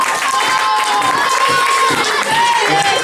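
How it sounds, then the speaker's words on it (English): A big crowd at a lecture event gives a loud, sustained burst of cheering and applause, with many voices shouting over the clapping throughout. "This is what you call a massive round of applause for Levi Yiftach."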